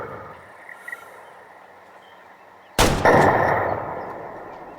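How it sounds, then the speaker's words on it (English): A single loud rifle shot while hunting a large western moose cracks out after a quiet stretch, followed by a rumbling echo that lingers and slowly fades. No one speaks. "I think we landed a pretty good shot"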